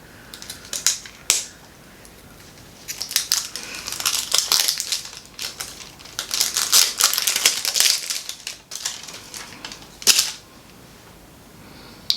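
Plastic wrap crinkling and tearing as it is pulled off a highlighter from a small mystery box, with bursts of crackling in irregular clusters, close and fairly loud, no talking.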